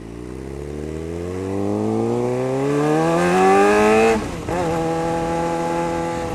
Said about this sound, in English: So I ride a Suzuki Gixxer.